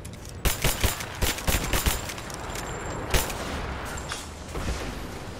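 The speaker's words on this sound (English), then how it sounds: "Why are you guys still shooting?" Gunfire in Rise of the Tomb Raider comes as a quick cluster of sharp shots, then a few scattered single cracks and a distant burst over a low background hiss.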